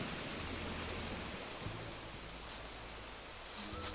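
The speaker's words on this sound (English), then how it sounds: "I like this little waterfall spot." A small waterfall in the video game Animal Crossing rushes with a steady, dense hiss of falling water, constant and close, with no voices.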